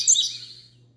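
A baby cockatiel lets out a short, bright chirp close by, fading quickly into quiet room hum.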